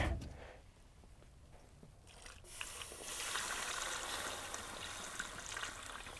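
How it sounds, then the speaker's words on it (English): After some quiet handling noise, water pours into a pot holding ham at a winter campsite, a continuous, moderate rushing splash that lasts to the end. "top up as much water as will fit in here"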